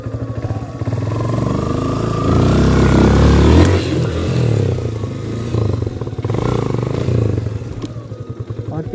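A motorcycle stuck in a pothole on a village road revs hard and strains, its engine rising and falling in loud bursts with some clattering and scraping as it fights to climb out.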